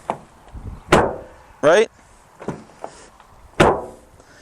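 Doors of a 2021 Ford Ranger Tremor swung shut several times, giving sharp, fairly light slams spread across a few seconds, with a brief voice in between.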